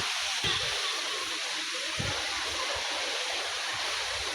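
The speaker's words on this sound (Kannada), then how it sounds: "ಬೇಸಿಗೆಯಲ್ಲಿ ಅಷ್ಟು ಫೋರ್ಸ್ ಅವ ನೀರು" Water rushing with strong force at a summer stream or waterfall, a steady broadband roar that fills the whole clip, with a few faint low thumps and a brief voice beneath it.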